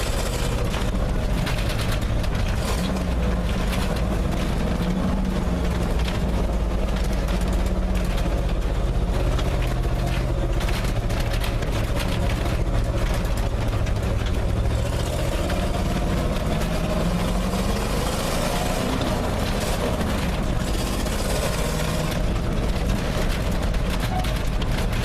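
An old classic truck engine drones continuously while driving, a loud, close rumble with gear-changing pitch sweeps and some rattling throughout.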